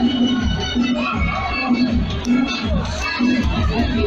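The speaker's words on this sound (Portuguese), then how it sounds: "A torcida vai gritando, vai pedindo" Football crowd at a local cup final in Chorrochó, Bahia, shouting and chanting in a loud, continuous roar with rhythmic swells, close and filling the whole stretch, a voice speaking over it.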